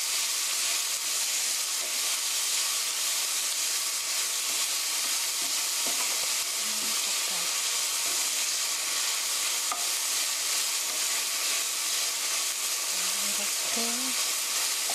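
Pork with onion and green onion stir-fried for kimchi pork, crackling in a hot pan under a loud, constant sizzle, with occasional spatula scrapes and stirring knocks close by.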